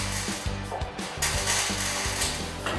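Electric nail gun driving nails into wooden boards while cladding a converted bus camper or container house, giving repeated sharp close bursts over constant workshop noise.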